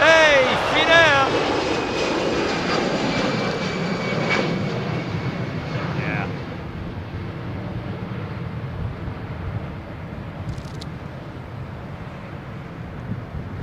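A Finnair aircraft takes off at London Heathrow Airport, its broad engine roar loud and steady at first, then slowly fading with distance, with someone speaking briefly over the start.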